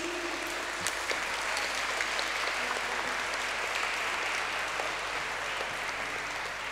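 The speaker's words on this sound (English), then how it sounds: "The claps say it all" Sustained applause from parents and guests at a music school event, a loud, continuous wash of clapping that stays steady and unbroken, with no voices over it.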